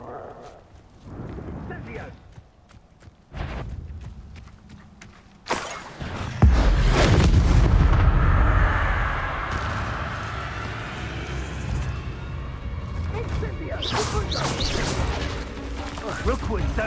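Confringo fire spells blasting enemies in the video game Hogwarts Legacy, a series of sharp whooshing bursts followed by a heavy, sustained explosive roar with crackling debris, loud and dense, with a voice calling out the spell.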